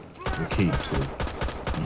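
Rapid gunfire from the mobile shooter game Modern Ops on iPhone, bursts of shots rattling throughout under a man's close, continuous talk.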